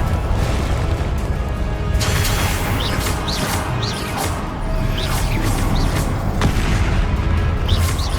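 Booming Confringo spell blasts in the Hogwarts Legacy video game, repeated crashes and bursts over dense continuous battle noise with whooshing spell effects, no talk.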